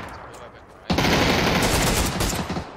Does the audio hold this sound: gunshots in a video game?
yes